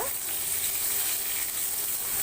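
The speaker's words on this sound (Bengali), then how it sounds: "সে তেলটাও একেবারে এর মধ্যে দিয়ে দেবো দিয়ে এটাকে আমি ভালো করে নেড়ে নেবো" Eggplant frying in oil in a pan while being stirred, a dense, continuous hiss of sizzling oil held close and loud for a short stretch, without speech.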